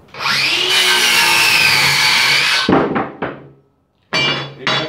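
A Bosch CCS180 18V cordless circular saw cuts wood on a jobsite with a dull blade, a loud steady whine for a few seconds, then short thunks and brief bursts as the blade spins down and restarts.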